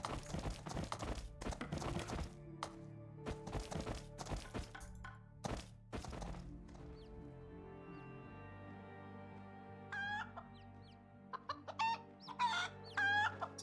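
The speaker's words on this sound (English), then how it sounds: "Some pretty chunky chickens." Chickens in the video game Pathfinder: Wrath of the Righteous cluck and crow amid a run of dull thunks early on, then sharper clucking bursts near the end, all fairly quiet.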